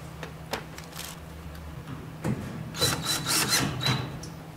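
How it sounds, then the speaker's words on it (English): A power drill whirs in short bursts, tapping threads into a metal enclosure panel for a Tormach PCNC, with intermittent grinding and pauses between passes. "A little bit of drilling, doing the tapping right through and back out."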